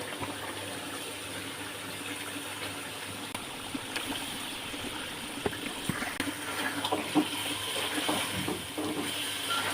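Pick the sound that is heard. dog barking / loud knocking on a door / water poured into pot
water poured into pot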